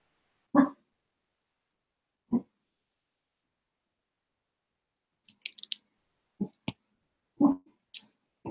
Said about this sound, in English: What you barking at, boy?